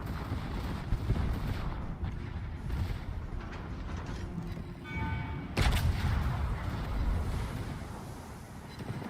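Warship secondary guns firing in the World of Warships video game, a dense rumble of overlapping cannon blasts and explosions with a louder burst midway, continuous and fairly loud.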